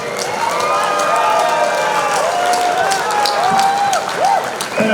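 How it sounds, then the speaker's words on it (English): A crowd applauds and cheers for both fighters after a professional mixed martial arts bout in a large space, a continuous wash of clapping with excited voices rising over it. "Please put our applause together for both of the fighters in this city"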